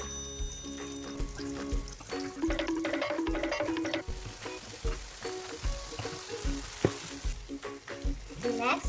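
Tomatoes frying in a pan, a steady close sizzle with repeated clinks and scrapes of stirring over several seconds, no voices.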